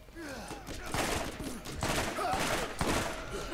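Rapid bursts of semi-automatic gunfire in the video game Borderlands crackle repeatedly in short three-shot volleys, loud and close, with a voice talking faintly in between.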